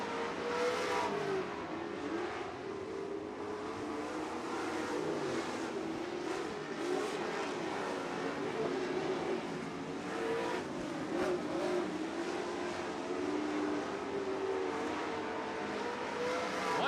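Dirt track race cars at a Dirt Kings and Grand National/B-Mod championship night roar steadily past, a loud, continuous wash of several engines with no break for the whole stretch.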